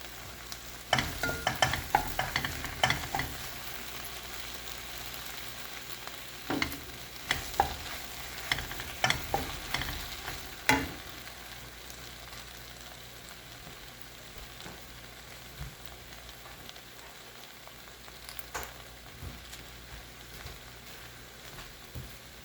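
Lady's finger cooking with masala in a pan, with a spoon scraping and stirring in irregular clattering bursts over a low steady sizzle, busier early and quieter toward the end.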